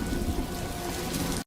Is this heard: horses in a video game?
no